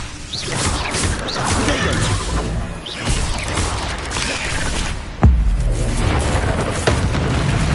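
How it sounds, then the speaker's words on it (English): Spell-casting effects from Hogwarts Legacy on PS4 during a fight with spiders: a dense run of crashing, booming magical impacts, with a sharp loud blast about two-thirds through followed by sustained rumbling combat noise. "Expelliarmus!"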